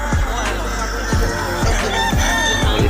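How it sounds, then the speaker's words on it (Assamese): Two fighting cocks brought to a cockfight sound off with loud, close clucking and crowing calls, harsh repeated bursts over a constant low rumble. "কুকুৰা দুটা লৈ আহিছিলোঁ, যাৰ লগত বান্ধিম"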